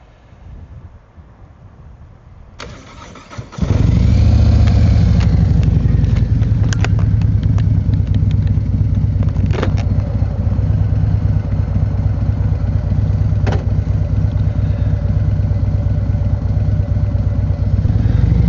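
A motorcycle starts off quietly, then its engine roars up loud and close and holds a steady, rumbling drone while riding, with wind buffeting and a few brief clunks.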